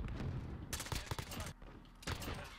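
A shotgun fired in Call of Duty: Modern Warfare, heard as a few heavy, clustered blasts at moderate loudness, separated by brief lulls, with no speech.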